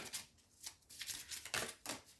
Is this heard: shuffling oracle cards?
yes